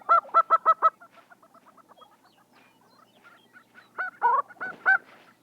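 Lesser prairie chickens calling on a spring dancing ground in shortgrass prairie: bursts of rapid, loud gobbling hoots in quick series, with softer chattering clucks between, close by and alone.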